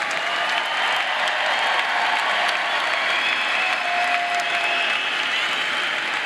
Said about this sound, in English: how about another round of applause for all of our graduates?